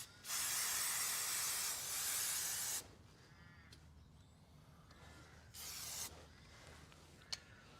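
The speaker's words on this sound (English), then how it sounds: "I haven't really sprayed around the mechanism" An aerosol spray can hisses in two bursts, a long steady spray of nearly three seconds followed later by a short half-second spritz, with quiet room noise between them.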